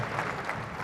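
Gentle applause rises from a crowd lining the route as the Queen's gun carriage passes on its way towards Westminster, a steady soft patter of many hands with no break.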